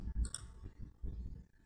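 Computer mouse clicks while navigating an online payment account, a few short sharp clicks early on with low background noise.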